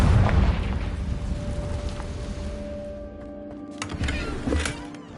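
A Confringo blasting curse goes off in Hogwarts Legacy, a loud booming burst at the start that rumbles and fades, followed by a couple of smaller pops later on.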